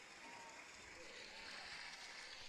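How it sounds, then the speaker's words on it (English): Crowd applause and cheering at an 8-ball pool match, a steady wash of clapping held at a constant level for the whole stretch with voices mixed in underneath. "Crowd's going off."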